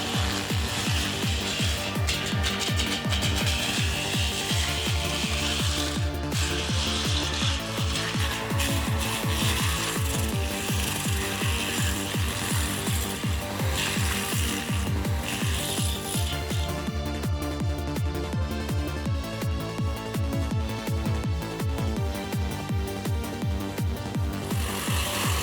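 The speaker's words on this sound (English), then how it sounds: "Imagine the DAH boom-mounted forestry, brush-cutting mulching industrial system as the jaws of a giant clam, effortlessly gnawing through wood." Boom-mounted forestry mulcher and brush-cutting head on an excavator chewing through rough wood, a loud continuous grinding roar with rapid pulsing chatter that persists throughout, heavy and close.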